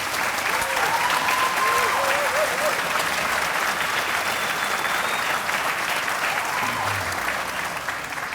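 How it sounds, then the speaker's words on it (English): Audience applause at a polo hall of fame induction ceremony, continuous loud clapping from a large crowd filling the whole stretch, with brief voices and a few faint cheers rising through it. "could we have a round of applause for their"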